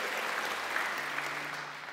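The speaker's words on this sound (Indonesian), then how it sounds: "Tepuk tangan bagi Allah kita saudaraku." A church congregation clapping during an online worship service, a dense continuous wash of applause at moderate distance, steady throughout with no individual claps standing out.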